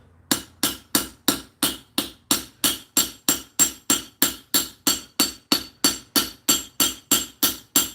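A blacksmith's hammer rings against hot metal held in tongs at a craft demonstration, about two dozen sharp, evenly spaced blows in a steady rhythm, close and loud with no talking.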